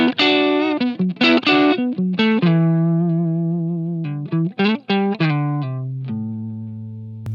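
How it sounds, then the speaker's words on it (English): Crunchy, overdriven electric guitar through a boost pedal, playing choppy chords and a few sustained notes, the distorted tone ringing out and fading at the end. "I can use it as a booster as well to get some kind of crunchier tones"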